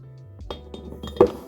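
Small metallic clinks of a teaspoon against a cup while cocoa powder is added for homemade hot chocolate, a few soft taps and then one sharper ring near the end, close and quiet with no talking.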